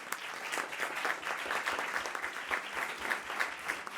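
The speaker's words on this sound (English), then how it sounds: "please, to give our 7 panelists a round of applause." An audience at a high-level dialogue on adaptation and resilience gives seven panelists a round of applause, with steady, even clapping from a sizeable crowd throughout.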